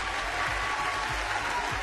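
Steady, dense applause from a large crowd at a televised anniversary concert, sustained evenly throughout and heard alone, with no voices over it.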